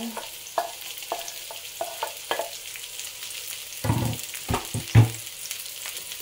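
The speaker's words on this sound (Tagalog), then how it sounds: "nagisa ko na yung bawang at sibuyas. Isunod naman natin itong sitaw." String beans are tossed into a pan of sautéed garlic and onion for adobong sitaw, giving a low steady sizzle broken by several sharper stirring scrapes and spatula clatters, with no talking.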